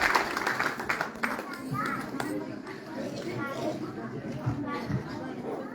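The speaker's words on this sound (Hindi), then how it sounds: "इनके लिए जोरदार तालियां" Applause and crowd noise from villagers at an outdoor Shiv Mahapuran katha gathering in Pulyasu, Pauri Garhwal, fairly faint and scattered, with children's voices and chatter over it.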